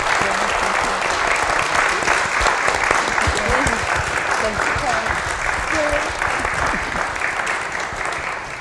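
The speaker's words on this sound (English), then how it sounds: "how about a round of applause for Keith and for the panel and for Tony?" Sustained crowd applause for a panel at a Martin Luther King Jr. Day celebration, dense clapping lasting several seconds, with voices murmuring and calling out underneath as it slowly fades.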